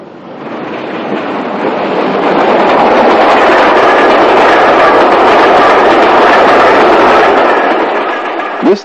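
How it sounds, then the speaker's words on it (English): A double-headed steam train rumbles past close by, a loud, steady roar with rattling wheels that swells, holds for several seconds, then fades. "the special was held in the loop to allow the passage of the premier train on the route"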